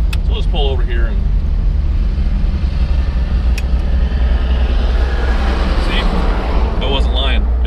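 A big dump truck rumbles past close by a parked 1960 Oldsmobile Dynamic 88 convertible, a loud, steady low roar of heavy engine and road noise through the whole stretch, with a voice briefly over it near the start and end.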